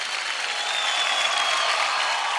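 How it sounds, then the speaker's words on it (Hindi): A studio audience at a televised dance competition claps in a dense, sustained roar that holds steady and loud throughout, with no talk heard over it. "आज जोरदार तालियां हो जाए"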